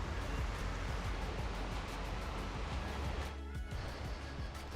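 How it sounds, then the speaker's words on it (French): Steady roar of a waterfall on the river at Carcès village in the Var backcountry, a broad continuous rush of falling water heard close and unbroken. "À gauche se trouve la cascade qui donne le nom au quartier de notre studio."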